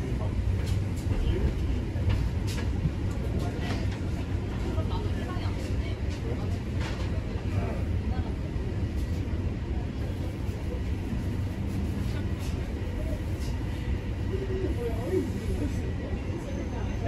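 Toronto TTC Line 1 subway train running between stations, a steady loud rumble and rattle of the car in motion throughout, with a faint voice at times.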